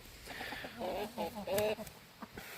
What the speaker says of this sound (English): Chickens are being very annoying today.